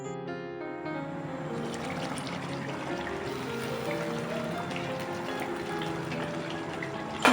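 Water is poured into a simmering fish kalia gravy in a cooking pan, making a steady rushing, trickling pour that runs close and unbroken for several seconds with no talking.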